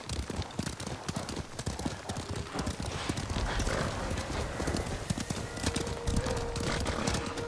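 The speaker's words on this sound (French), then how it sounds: "Il a son propre poney, le salaud" A horse's hooves clip-clop in a rapid, continuous rhythm while riding in Ghost of Tsushima, with occasional whinnies over game ambience and faint talking underneath.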